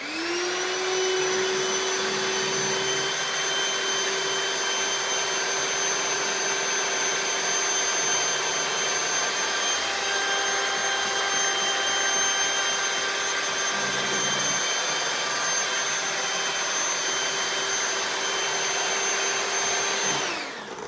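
An electric mixer runs steadily with a high, even motor whine as it beats cheesecake batter, loud and close, with no pauses and no talking.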